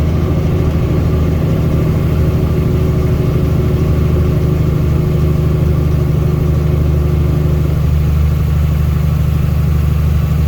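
A heavy truck hauling crane parts labours eastbound up Cabbage Pass with its turbo engine, a steady loud low drone and whine that holds constant throughout with no break.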